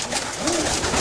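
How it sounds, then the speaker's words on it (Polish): A young blue pigeon in a pigeon loft gives a single soft rising and falling coo over the muffled room noise. The call is close and brief. "Tu pokażmy, to niebieski taki gołąb."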